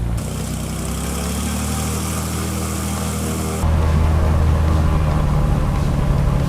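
Aircraft piston engine, a 300 hp twin-turbo unit, run up during a magneto check: loud, close, steady droning with a propeller buzz, stepping up abruptly to a higher, rougher pitch partway through, no talking.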